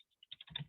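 Several quick keystrokes on a computer keyboard, sparse single clicks at first and then a denser burst of typing, close and fairly quiet.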